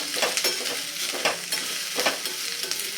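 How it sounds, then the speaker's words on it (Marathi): Roasted gram dal is stirred into a frying chutney mix in a pan, with repeated close scraping strokes and rattles in an irregular rhythm over a constant sizzle. "मी फुटाण्याची डाळ घेतलेली आहे ती घालून घेऊया मिक्स करून घेऊया"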